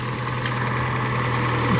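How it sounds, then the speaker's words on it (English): A neglected 1989 Mustang engine idling with crank rattle, a steady close rumble with a low hum and a continuous knocking vibration running throughout. "this poor engine seems to have a lot of crank rattle"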